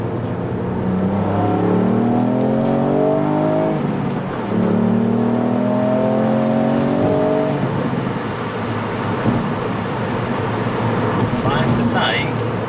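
A Mk8 Ford Fiesta ST fitted with a Mountune throttle body and turbo elbow accelerates along a quiet straight country road, engine note rising through two gear pulls, loud and close inside the cabin, with a brief voice near the end.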